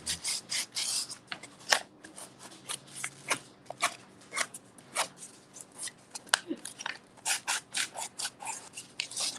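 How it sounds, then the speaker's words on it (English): Repeated scratchy strokes of sanding a back cover at close range, in uneven bursts with brief pauses between them. "A little more sanding."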